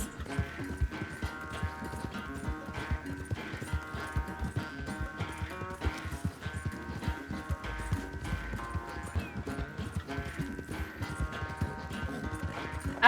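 Rapid clip-clop of a horse galloping in a race in Red Dead Redemption 2, steady hoofbeats over continuous game music and background noise, with faint voices.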